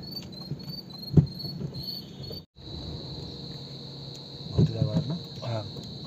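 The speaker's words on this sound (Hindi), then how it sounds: "और देखिए झिंगुर की आवाज दोस्तों हल्की हल्की।" High, steady cricket chirping fills the background outdoors at night in the Jim Corbett forest, briefly cutting out, while someone talks quietly in Hindi over it.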